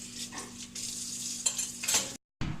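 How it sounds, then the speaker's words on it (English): Faint sizzling of a Monte Cristo chaffle frying in a pan, with light clinks of utensils and a brief silent gap near the end. "So I'm frying it."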